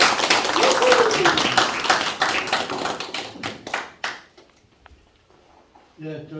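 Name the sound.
audience applause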